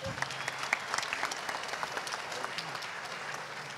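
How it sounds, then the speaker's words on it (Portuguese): Audience applause at a tech conference talk, a moderate wash of many clapping hands with a few sharper individual claps standing out, steady and fairly faint, with some faint voices underneath. "Salve de palmas para Renato Groff."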